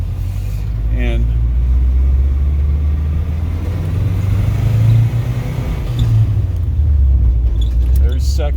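A Saab 96 Deluxe with a V4 engine drives along, its low, steady engine drone and road rumble continuous throughout with slight rises in pitch, while someone talks over it.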